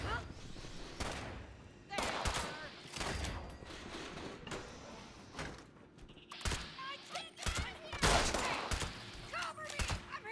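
Minigun fire in Fallout 76 combat comes as repeated loud, rattling bursts of rapid gunfire with short gaps between them, and a person talks over it.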